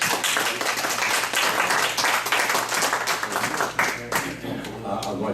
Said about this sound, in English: I think a round of applause is certainly.